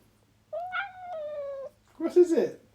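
Pickles the cat lets out a long, drawn-out meow up close, then a shorter, rougher yowl after a brief pause, both clear against a quiet room.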